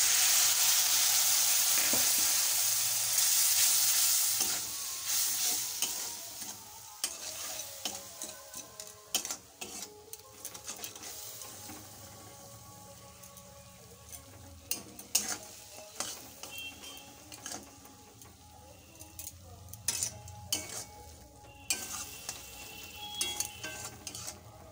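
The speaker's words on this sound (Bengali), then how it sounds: "মশলাটাকে 2 মিনিট মতো ভেজে নিচ্ছি।" Spice paste with Kashmiri chili powder, salt and a splash of water frying in a pan, opening with a loud hiss that settles into quieter sizzling broken by many sharp clicks and scrapes of a stirring utensil.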